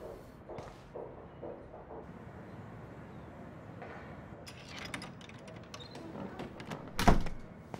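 A door opens in Life Is Strange with a series of mechanical clunks and rattles, then a sharp loud knock or thud near the end, over a quiet ambient background.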